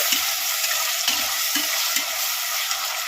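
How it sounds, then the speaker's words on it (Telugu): Thinly cut tomato pieces fry in a pan with a steady, close sizzle, broken by a few soft stirring scrapes at an uneven pace. "ఈ సన్నగా కట్ చేసి పెట్టుకున్న టమాటా ముక్కలు అయితే వేస్తున్నాము ఇవి కూడా మెత్తగా వచ్చేదాకా ఫ్రై చేసుకోవాలి"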